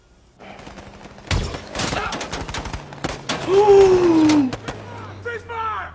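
Gunfire from the film American Sniper, a burst of sharp shots and rapid repeated cracks over a rumbling battle scene, with people talking over it.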